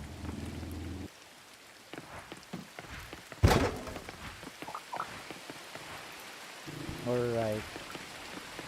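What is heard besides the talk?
rain in the video game Coral Island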